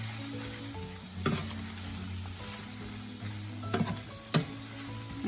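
Shrimp stirred in a hot pan sizzle steadily on a stovetop with the heat switched off, as a few sharp scrapes and clicks of the utensil punctuate the continuous frying hiss.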